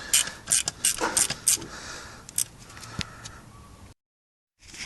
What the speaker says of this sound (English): if you've got them, use these ratchet spanners